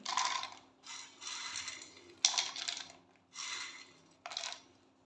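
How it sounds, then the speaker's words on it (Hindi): Dry fruits are ground in an electric grinder in about five short, whirring pulses with brief pauses between them, heard alone without speech. "तो अभी मैं इन तमाम ड्राई फ्रूट्स को 1 बाय 1 ग्राइंड कर लूँगी।"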